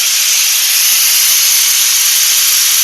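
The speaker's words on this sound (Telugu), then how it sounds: "ఇదిగా ఫస్ట్ విజిల్ వచ్చింది" A pressure cooker steams through its whistle while a country chicken curry cooks, giving a loud, steady, hissing blast with no break, alone and close.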